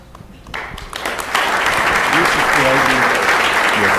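Applause at a Midwest City, Oklahoma city council meeting, starting with a few claps and swelling into loud, sustained clapping from a roomful of people, with a voice faintly audible beneath it.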